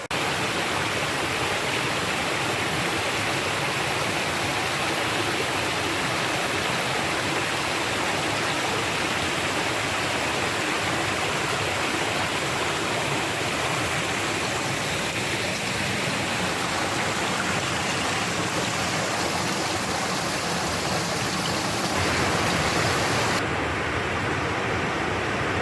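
Water flows steadily through a pipe beside a hiking trail in the foothills, a dense, continuous rushing hiss that stays close and loud from start to finish with no talking.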